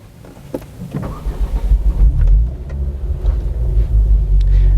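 A 2014 Ford Focus RS with manual gearbox is started up: a brief starter whir followed by the engine catching into a deep, rumbling idle that swells and settles, recorded nearby with no talking.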